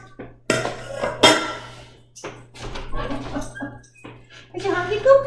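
Dogs waiting to be fed, giving short whimpers and yips amid clinking dishes while people talk nearby.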